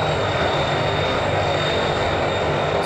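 An airplane engine in the BeamNG.drive video game roars at increased throttle, a loud, constant droning hum with no breaks and no voices over it.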